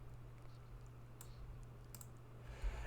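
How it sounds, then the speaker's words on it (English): Computer keyboard clacking faintly during an online podcast call, scattered soft key clicks over a low steady hum, no talking. "I can hear your keyboard clacking."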